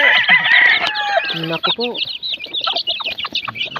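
Chicks and chickens at feeding time, close by, with busy high cheeping and clucking throughout and a short excited exclamation from a person at the start.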